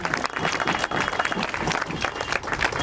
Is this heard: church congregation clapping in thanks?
yes